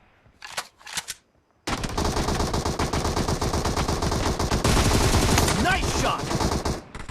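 Rapid automatic gunfire in a shooting video game, a dense sustained burst of shots that follows a few short isolated sounds, loud and continuous to the end.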